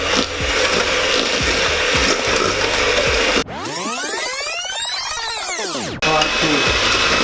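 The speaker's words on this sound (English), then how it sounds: "We can get an electric whisk and start whisking this in." An electric whisk creams butter in a bowl for chocolate chip cookies, a steady whirring drone of about two and a half seconds framed by softer scraping before and after.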